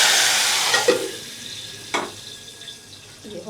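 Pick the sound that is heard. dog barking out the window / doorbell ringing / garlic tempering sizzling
garlic tempering sizzling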